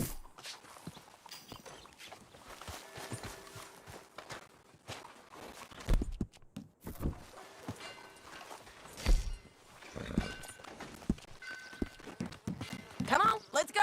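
Horse hooves clip-clopping in a steady walking rhythm while riding in the video game Red Dead Redemption 2, with scattered thuds and some speech over the top.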